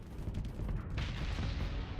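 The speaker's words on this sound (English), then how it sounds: "Explosions! One probe down." Explosions and weapons fire during ship combat in the StarSector space video game, a dense low rumble of continuous blasts with a brighter burst of crackling impacts midway, loud and sustained.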